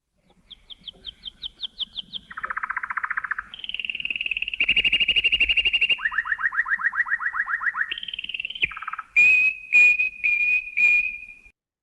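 Clear, close bird-song phrases from Respighi's Pines of Rome played alone: quick high trills, a long warbling passage, a rapid rising series, then several short separate chirps at the end.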